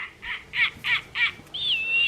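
A Wild Republic toy American snowy owl sounds off with four short, evenly spaced harsh barks followed by one drawn-out wavering whistle, near and clear, with no speech over it.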